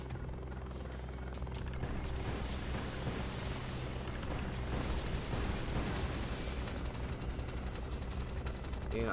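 A dense, continuous barrage of game gunfire and explosions in War Tycoon, with rapid automatic shots layered over a low rumbling drone, loud and chaotic throughout.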